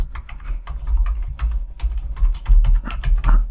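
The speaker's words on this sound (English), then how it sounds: "we can just start typing" Fingers tap rapidly on a computer keyboard while a title is entered into a spreadsheet cell in Excel, a close, irregular clatter of keystrokes with no talking.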